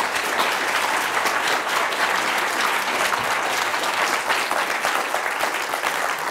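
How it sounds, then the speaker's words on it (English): A San Diego audience gives Dr. Mario Livio a warm welcome with full, continuous applause that holds steady and loud throughout. "please join me in giving a warm San Diego round of applause for Dr."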